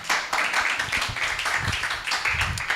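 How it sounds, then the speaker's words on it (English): An audience at a Kenyan water conference applauds for a speaker, a steady patter of clapping from a modest crowd with a voice partly audible over it. "A clap for Beatrice kindly."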